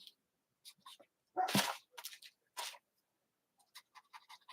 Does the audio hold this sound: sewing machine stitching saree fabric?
no